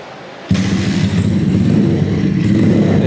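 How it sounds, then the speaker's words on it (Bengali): After a brief quiet moment, a 125cc Dayun motorcycle converted into a cafe racer catches and settles into a loud, steady idle with a throbbing low rumble. "বাইকটা আমি এখন স্টার্ট দিলাম স্টার্ট দিয়ে সাউন্ডটা আপনাদেরকে টেস্ট করে দিচ্ছি দেখেন"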